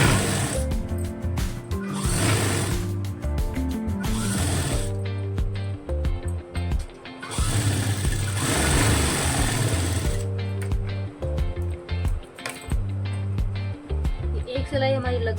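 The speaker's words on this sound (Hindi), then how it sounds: "तो अब हमें इसके ऊपर सिलाई लगाएंगे।" A sewing machine runs steadily to stitch a palazzo seam, its rhythmic mechanical whir continuous and close, pausing briefly around the middle, with a voice talking at points.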